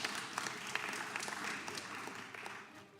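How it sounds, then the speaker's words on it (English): Audience in a congressional committee hearing room giving a brief round of applause, fairly quiet and distant, with scattered distinct claps over the steady patter. "Yeah, we should clap for that."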